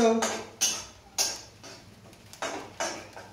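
A ladle scrapes and knocks inside a kadhai while vegetable curry is stirred, several sharp metallic clanks in uneven rhythm with softer scraping between them, close by.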